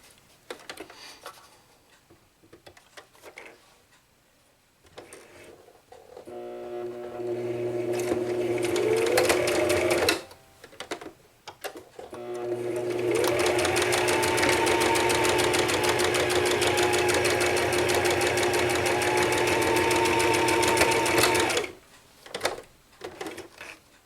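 A sewing machine stitches a quarter-inch seam along the short ends of a cross-stitch drum finishing piece, running in two steady motor bursts of roughly four and nine seconds, separated by short pauses and soft handling noises.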